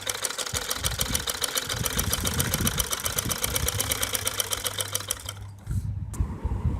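Close by, a sewing machine runs a steady rapid stitch along a salwar bottom, its needle tapping in an even rhythm. The stitching halts near the end, leaving a brief lull before some softer handling noise.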